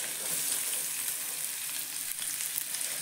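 Onion frying in a pan for a quick Maharashtrian egg curry, a close, even, continuous sizzle with no pauses and no talk.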